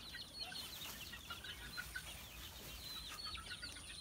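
Two-month-old backyard chicks cluck and peep in a dense, steady chorus, with soft chirps overlapping throughout against low farmyard background noise.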